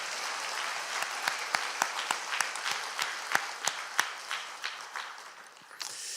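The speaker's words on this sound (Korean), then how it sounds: "우리 다 박수로 격려를 한번 하겠습니다" Sparse, fairly quiet applause from a church congregation during a Sunday worship service, with distinct individual claps standing out over a soft wash of clapping.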